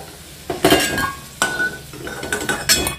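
Clinks and scrapes of a utensil against a cooking pan as fried potatoes are lifted out, several sharp metallic knocks over a soft background sizzle, close and clear with no talking.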